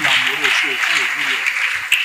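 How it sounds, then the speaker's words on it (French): Audience applause fills a church testimony gathering, a bright, steady wash of clapping running throughout, with a voice speaking over it. "Acclamons pour l'amoureux."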